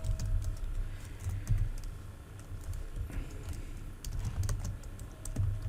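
Fingers tap steadily on a computer keyboard while C++ code is written, a quiet run of irregular clicks over low background hum, with no speech.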